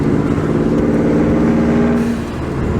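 A Subaru WRX with a modified exhaust rumbles and revs loudly and close, a deep throaty drone holding steady before easing off slightly near the end.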